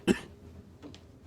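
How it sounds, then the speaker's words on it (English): A single short cough sounds at the start, fairly close, followed by faint breathy rustling and quiet background. "Why are you coughing?"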